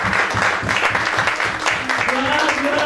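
A church congregation claps and cheers in praise, rhythmic applause mixed with voices and singing, loud and close throughout.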